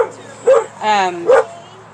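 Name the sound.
dog barking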